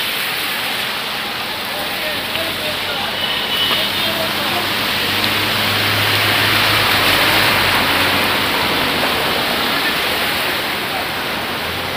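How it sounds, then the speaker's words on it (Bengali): Steady rain falls on a flooded street in Cooch Behar during the rainy season, a dense continuous hiss that swells slightly midway and holds without breaks. "কন্টিনিউয়াসলি বৃষ্টিও পড়ে যাচ্ছে, আমি আজ ছাতা নিয়ে আছি, ঝিমঝিম করে বৃষ্টি পড়ে যাচ্ছে।"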